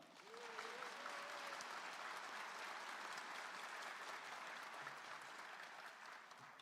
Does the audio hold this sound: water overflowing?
no